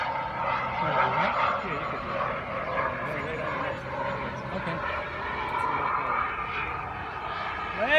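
A large yellow model F-18 jet comes in to land, its engine a steady loud whine and roar held throughout at close range, with voices talking over it.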